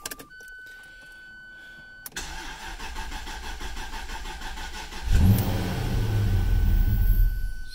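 A Jaguar XK8 with about 96,000 miles and a suspected fuel pump fault cranks and starts, its engine catching with a loud burst and running unevenly before rising briefly, close up with no talk.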